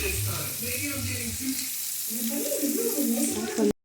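Onion, ginger and grated carrot sauté in a pan for a Tamil samba rava adai batter, giving a steady close sizzle with stirring scrapes throughout and faint low voices underneath.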